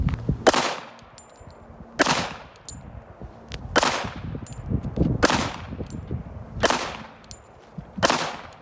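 Six .45 ACP pistol shots ring out at an outdoor shooting range, spaced roughly a second and a half apart, each a sharp loud crack with a ringing decay, with faint background rustling between shots.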